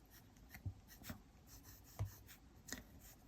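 Soft scratching strokes of a Good Blue Zoom fountain pen nib writing on paper, a handful of faint, irregular scrapes close by in a quiet room.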